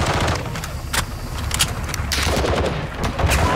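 Rapid bursts of automatic gunfire from a Call of Duty Modern Warfare 2 (2022) match, dense and loud throughout with overlapping shots and a sharp crack or two, no speech over it.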